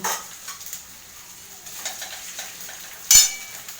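Ginger fries in a pan, a soft faint sizzle with light stirring scrapes and one sharp clink of a utensil against the pan near the end.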